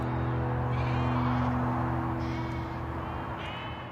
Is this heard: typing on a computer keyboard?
no